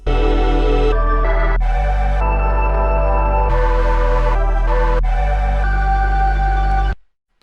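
Two layered synth pads from Kontakt instruments sustain loud, sustained chords over a deep bass pad, the harmony shifting every second or so before cutting off abruptly near seven seconds.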